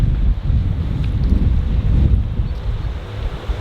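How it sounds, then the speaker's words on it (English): Steady wind buffeting a microphone outdoors in Victoria, British Columbia, a constant low rumble and roar that fills the whole clip with no voices. "It's a little windy, a little chilly."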